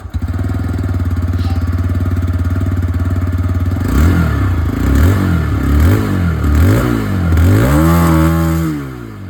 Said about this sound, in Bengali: তো স্টার্ট করি with this Bluetooth model, exhaust সাউন্ডটা শুনে নিন।